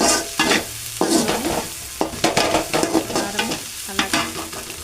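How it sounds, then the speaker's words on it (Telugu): Rice for fried rice is stirred and fried in a pan, with repeated scraping spoon strokes over a lively sizzle, all close and fairly loud. "రైస్ అయితే వేసుకోవాలన్నమాట"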